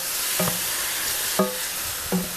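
Food sizzles in a pan on high heat while pasta is being prepared, a constant bright hiss. Three evenly spaced metallic scrapes or clinks sound over it, close up, with no talking.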